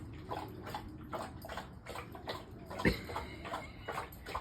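A puppy drinks water with rapid, rhythmic lapping and splashing, close and fairly soft, with a louder slosh partway through.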